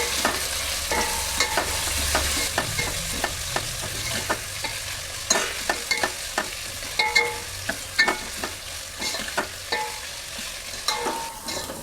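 Onions sizzling and frying in a pan over browned garlic for a dal of whole urad and chana, with steady broadband crackle and repeated sharp stirring scrapes and clacks throughout, close and fairly loud, no talking.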